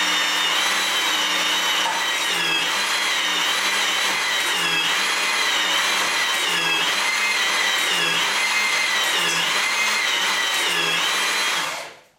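A HYTORC Avanti bolting machine breaks a bolt loose with a steady, loud mechanical whine and grinding drone that pulses slightly in pitch for about twelve seconds before abruptly shutting off.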